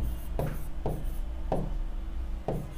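Chalk or marker strokes scratch across a board in four short, evenly spaced bursts during a programming lesson, close and clear over a steady background hum with no talking.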